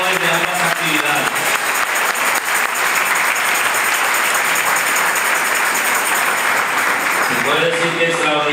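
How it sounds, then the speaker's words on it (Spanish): A church congregation breaks into loud, sustained applause for event organizers, a dense, steady wash of clapping that fills the room, with a voice speaking briefly at the start and again as it ends. "quiero pedir un aplauso fuerte para los organizadores de ambas actividades"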